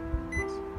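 A Zojirushi NP-NC10 rice cooker gives short electronic beeps as its buttons are pressed, faint tones over low room noise with soft button clicks.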